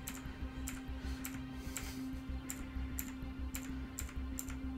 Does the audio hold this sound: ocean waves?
no